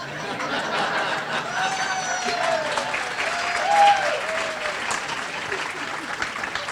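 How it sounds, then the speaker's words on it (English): Steady applause from an audience at an honoring event rolls on throughout, moderately loud and even, with a speaking voice and a little light laughter over it. "I was thinking maybe there could be a little bit more applause"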